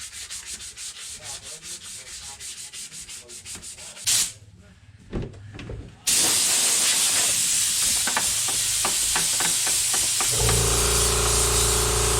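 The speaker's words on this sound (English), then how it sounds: "As always, I'm sorry for the compressor." Steady broadband hiss and roar of an air compressor running loud and close in a garage during DIY car rust repair, alongside rhythmic scraping or sanding strokes, with a brief quieter gap before the loud hiss resumes.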